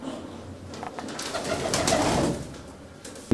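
Pet pigeons kept by a pigeon fancier coo softly and repeatedly at close range, a low throaty call with no voices present.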